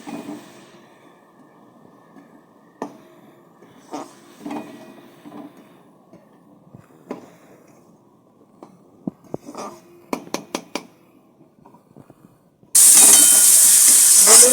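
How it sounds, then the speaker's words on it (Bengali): Spice paste with onion and tomato, for a bhola fish curry, cooks in a pan: quiet clinks and stirring scrapes give way to a sudden loud, steady sizzle near the end. "সুন্দরভাবে আমার এই মশলাটা কষা হচ্ছে পেঁয়াজ টমেটো দিয়ে"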